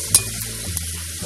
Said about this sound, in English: my gujiyas are getting fried.